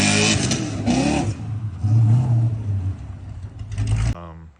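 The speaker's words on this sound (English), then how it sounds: "I got a lot of compliments on how this truck sounded with the equal length exhaust" Chevrolet Silverado 2500HD truck with a rear-mount turbo setup and equal-length exhaust revs in short bursts, the engine note rising and falling close by, with someone talking over parts of it.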